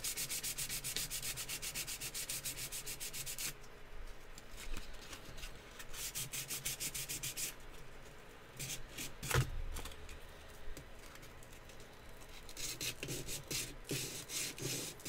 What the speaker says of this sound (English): we'll just go through a ton of sandpaper